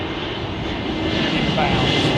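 A steady jet roar from an El Al airliner inbound to Heathrow fills the short stretch, loud and continuous, with a voice faintly present underneath.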